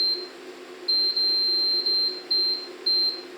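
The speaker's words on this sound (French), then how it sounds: "Alors moi je vais mettre ma minuterie." A kitchen timer on a stovetop gives several bright, high electronic beeps, some long and some short, in an irregular pattern over a low steady hum.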